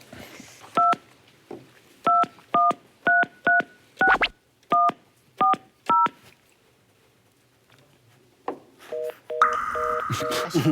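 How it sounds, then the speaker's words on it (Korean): Touch-tone beeps come from dialing a red telephone on a TV panel show, a run of about nine short evenly spaced tones, followed by a few faster tones and a ringing signal near the end. "제가 빨간 전화로 연결을 해볼게요."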